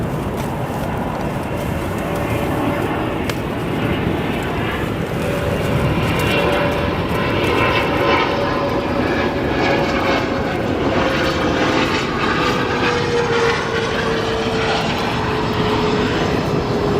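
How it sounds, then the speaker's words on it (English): Boeing 777 jet taxiing at O'Hare International Airport, a loud, steady engine roar with a faint rising whine held throughout, heard from outside with no voices. "We're gonna stay on our 777 just for a moment. Just watch it taxi back here,"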